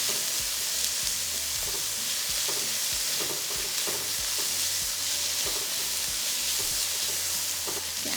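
Peas and carrots fry in a hot pan for steak fried rice, giving a steady, loud sizzle broken by repeated scraping stir strokes.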